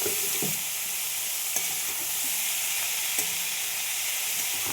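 Boiled banana flower sizzles in a frying pan with fried potatoes for a vegetarian dish, a steady hiss broken by a few sharp scrapes of stirring.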